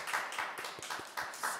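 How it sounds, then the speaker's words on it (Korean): A small church congregation claps in a quick, uneven rhythm, a handful of sharp distinct claps repeating at a moderate distance, fairly quiet and without talk. "우리의 찬양과 기도를 바친 하나님께 영광의 박수 올려드리겠습니다"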